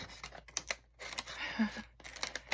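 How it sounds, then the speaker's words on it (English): Scissors cutting vellum on a slant, heard as close, crisp snipping and rustling of the stiff translucent sheet, with short sharp clicks and a longer slicing pass in the middle. "So I'm going to cut just on a slant."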